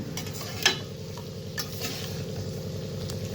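Maggi noodles stirred in a pan with spring onion greens, a spatula scraping and clacking against the metal over a constant low sizzle, with a sharper clink near the start.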